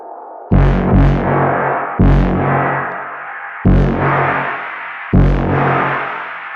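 A bass synth plays four loud, sustained distorted notes in a slow rhythm, each struck sharply and washed in a metallic, ringing reverb tail that fills the gaps.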